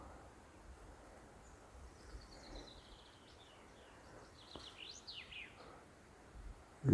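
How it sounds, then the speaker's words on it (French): Faint, distant birdsong with scattered chirps and whistles over a soft outdoor hush in the Alps, no voices. "Un peu plus loin, le sifflement des oiseaux."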